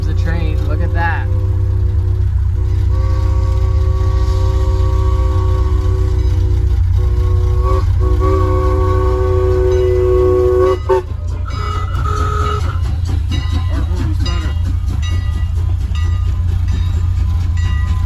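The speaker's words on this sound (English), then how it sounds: "oh, here comes the train. Look at that." A Strasburg Railroad train in Pennsylvania passes close by with a loud, heavy rumble while its whistle sounds in sustained tones for most of the pass, then the rolling noise continues alone; faint voices may sit underneath.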